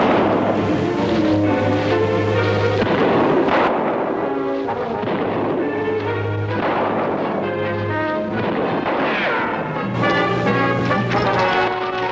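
Loud, repeated booming gunfire and cannon-like blasts from a Captain Kidd pirate adventure drama roll out in heavy bursts over a sustained dramatic orchestral score.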